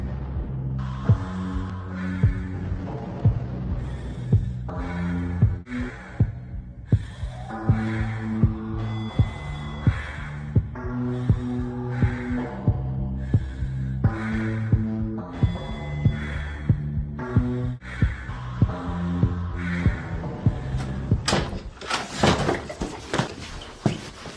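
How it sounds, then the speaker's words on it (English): A heartbeat sound effect thumps steadily through a scene in the movie Goth, loud throbbing pulses repeating at a regular rhythm under a droning musical hum, with a brighter noisy swell building near the end. "I hate that sort of heartbeat"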